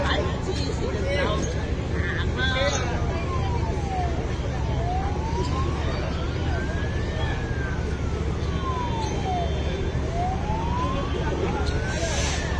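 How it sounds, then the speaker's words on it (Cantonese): A police car's siren wails in long rising and falling sweeps as it draws closer, loud over steady traffic rumble at a light-rail line in Tuen Mun, with voices talking underneath. "我有警車嚟緊啊！"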